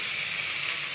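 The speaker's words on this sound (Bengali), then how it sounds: "ভালোভাবে কষিয়ে নেব।" Hot oil sizzling steadily in a pan as a fritter mix with tomato and coriander leaves is sautéed, a continuous close hiss with no talking.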